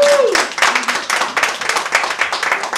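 At a Father's Day gathering, an audience gives the dads a round of applause: close, brisk clapping that follows a short vocal cue from the speaker.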